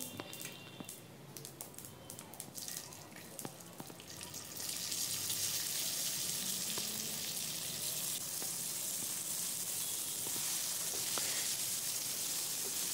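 Stuffed green chillies, steamed and filled with besan, frying in oil with sesame seeds: a steady broadband sizzle that swells louder after a few seconds and holds, with faint clinks of a utensil.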